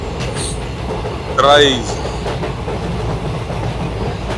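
A long freight train passes on the rails near Velddrif, South Africa, giving a continuous close rumble and clatter while someone briefly speaks over it.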